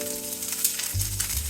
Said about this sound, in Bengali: তাওয়া দিয়ে স্টার্টিং যেটা করবো সেটা হচ্ছে একটু এই বড় লঙ্কা দিলাম